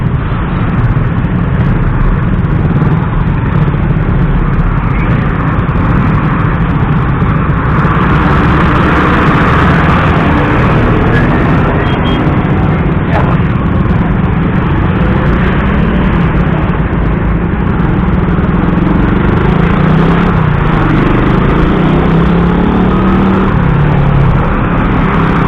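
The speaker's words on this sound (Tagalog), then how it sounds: "makikita nyo sa gawing kaliwa natin, hili-hilera mga dump truck" Rows of large dump trucks loaded with sand pass on a road in Montalban, Rizal, a loud continuous heavy engine rumble and road roar, close and unbroken throughout.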